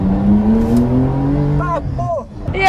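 An old woman's Porsche accelerating hard along Avenida Europa, engine note climbing steadily and loud with strong harmonics, then gear changes as revs drop and rise again, close by and dominant.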